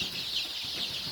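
A flock of local chickens at a farm raising chicks, quiet, scattered clucks against a constant high background hiss, faint and brief.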